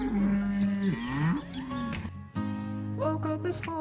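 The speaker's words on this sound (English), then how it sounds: "Saturday evening, cows coming in." Cows coming in for evening milking moo loudly and close by, several long drawn-out calls overlapping and following one another with no talking.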